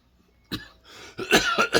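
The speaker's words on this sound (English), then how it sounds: "nagging cough. Can't seem to get rid of it." Several harsh, close coughs in quick succession, starting with a short bark and followed by a cluster of raspy coughs.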